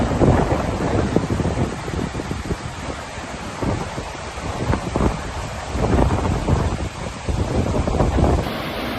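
Strong storm winds of Storm Leonardo in southern Spain roar steadily as loud, continuous buffeting against the microphone, with rough gusting surges and no voices.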